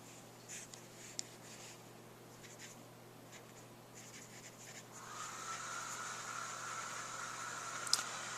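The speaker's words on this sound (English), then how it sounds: "So then I want to write it out in longhand." A pen scratches across paper while a pay amount is written out in longhand, faint and close with short irregular strokes over a soft background hiss; no one speaks.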